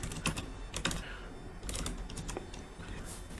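Python code being typed on a computer keyboard, with a steady patter of quick key clicks and occasional louder strokes over a faint background hum.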